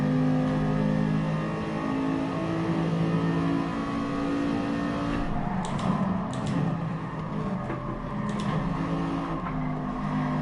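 Racing car engines drone steadily in a video game race, with a Honda NSX running close behind; a continuous loud engine tone shifts slightly as cars rev, with a few brief ticking clicks midway.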